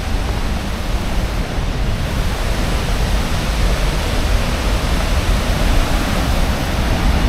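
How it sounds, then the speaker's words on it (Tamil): Sutherland Falls, a large waterfall, gives a steady, loud, broadband rushing roar that holds unchanged throughout with no voices. "அருமையான ஃபால்ஸ்."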